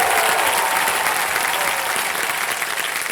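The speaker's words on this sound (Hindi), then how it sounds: "जोरदार तालियां हो गया हमारे सभी खिलाड़ियों को" Sustained studio audience applause on the Indian quiz show Kaun Banega Crorepati (KBC) Season 14, a dense, steady wash of clapping from a large crowd that keeps up at full strength with no voices over it.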